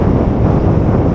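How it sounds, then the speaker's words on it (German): Wind buffets a microphone while cycling fast outdoors, a dense continuous low roar and rumble that fills the short moment with no voices. "Und dieser Wind, der klatscht hierher."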